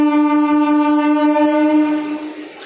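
An Indian express passenger train sounds one long, steady, loud horn blast at a station, and the tone fades away at the end.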